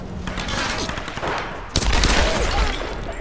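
Gunfire in the Tomb Raider video game: a dense burst of shots with a sharp loud crack partway through, followed by continued rattling fire, with a voice faintly underneath.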